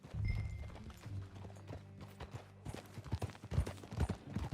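Horse hooves clip-clop steadily in Red Dead Redemption, joined by ambient game sound and a low musical drone, with louder hoof strikes toward the end.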